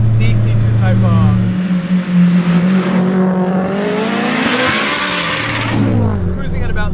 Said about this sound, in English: I hope you can really get a chance to hear the noise of this turbo K20 DC2 Type R